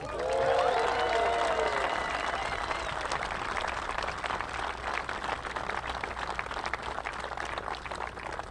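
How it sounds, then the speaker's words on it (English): Crowd at a golf tournament awards ceremony applauds volunteers, a sustained outdoor round of clapping with brief whoops near the start, continuing evenly throughout. "Please give a big round of applause to Jackie Harms and Peggy Berkebile."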